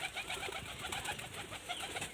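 Pigeons coo in a loft while birds are released into flight, a dense, soft layer of overlapping cooing with no clear pauses, fairly faint and close.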